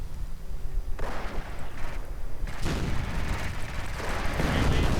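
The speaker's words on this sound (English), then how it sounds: "Artillery adding in." Artillery fire in a Company of Heroes mod battle in a 2v2 match, with repeated loud booming blasts and rumbling impacts over dense battle noise, close and heavy throughout.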